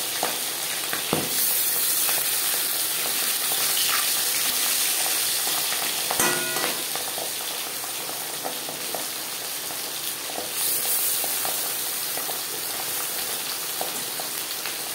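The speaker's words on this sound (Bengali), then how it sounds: "5 চামচ সরষের তেল গরম করে নিয়েছি। এবার দিয়ে দেব ম্যারিনেট করে রাখা পাবদা মাছ" Marinated pabda fish fries in hot mustard oil, a loud continuous crackling sizzle held close by, punctuated by a few utensil clinks and spatters.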